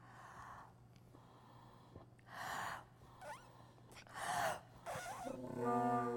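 Several big, forceful breaths blown into a bagpipe bag, each a loud, rushing exhale with gasping inhales between, close to the mic, and a brief low drone sounding at the end.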